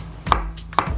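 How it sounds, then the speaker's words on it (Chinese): Ginger cut with a knife on a board, two crisp chops about half a second apart, close and clear with nothing else around. "姜切碎，先切片，再切丝"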